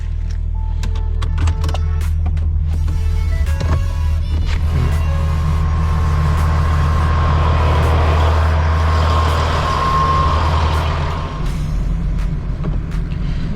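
A truck engine idles and drives in a steady, loud, close rumble as it lines up with loading ramps, with a higher whine rising in the middle and fading near the end; no talk.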